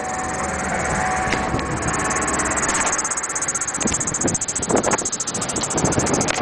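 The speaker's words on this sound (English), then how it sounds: "Looks like it only squeaks when it's idling." A Ford E350 shuttle bus engine idles with its hood open, a steady mechanical hum with a high, thin squeal from the belt running continuously above it, with nearby rustling toward the end.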